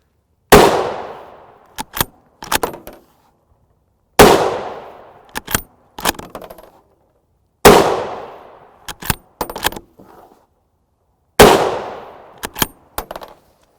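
Four sharp, loud 7.62x51mm .308 Win rifle shots with 167gr JHP ammunition are fired into ballistic gel outdoors, evenly spaced a few seconds apart, each a cracking blast with a decaying tail followed by a short cluster of clattering echoes.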